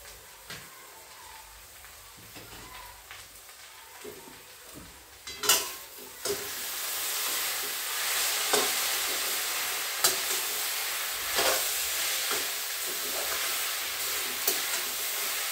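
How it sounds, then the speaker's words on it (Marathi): Grated potato fries in a pan over medium heat while being stirred, with a steady close sizzle and intermittent spatula scrapes and clacks against the pan. "आता हे थोडं हलवून घेतलंय म्हणजे करपत नाही"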